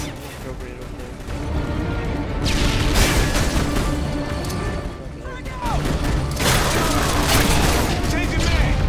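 Grenade blasts and bursts of gunfire in the Modern Warfare 2 video game, loud booms and rattling shots overlapping in dense battle noise with a lull near five seconds, while players talk throughout.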